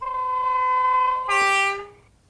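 Two-tone horn on an Accurascale Class 31 model locomotive: a high note held for over a second drops straight into a shorter lower note, loud and close, with nothing else heard.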